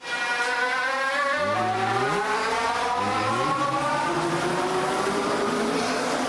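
A SkyTrain in Vancouver, captured as a recorded sample, rises in pitch in rising and sliding electric motor whines. It plays as a continuous loud tone with no talk.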